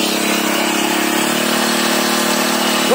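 A single-wheel weeder's small engine runs in a field in Melur, Madurai, Tamil Nadu, a steady close buzzing drone that holds loud and even with a slight rise at the end.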